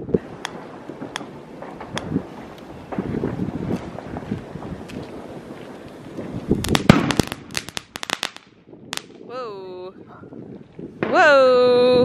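Crackling fireworks pop in a rapid cluster amid wind buffeting and distant voices on New Year's Eve in Berlin, followed by a few shrill whistling tones.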